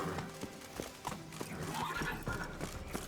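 Horse hooves clip-clop at a steady gallop in The Witcher 3, with a whinny rising partway through, all loud and close over a busy game soundscape.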